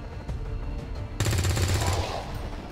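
Gunfire from the XCOM 2 video game: a sudden loud burst of rapid automatic shots that cuts in mid-clip and rings for about a second before fading into a softer tail.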